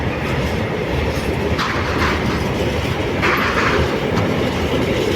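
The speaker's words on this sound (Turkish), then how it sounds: "trenimiz gitti" A TCDD freight train of Omsan containers departs a station in Turkey, rumbling steadily past with rhythmic clatter of wheels on track and a constant loud roar, no voices.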